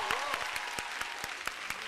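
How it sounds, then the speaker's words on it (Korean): Audience clapping for a band at a Korean music show, fairly quiet, with a handful of distinct claps spaced across the brief moment and a voice speaking faintly over them. "밴드에게 큰 박수 부탁드립니다."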